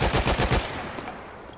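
Short burst of Lewis gun automatic fire in a video game, about five quick loud rounds in rapid rhythm, then a decaying echo.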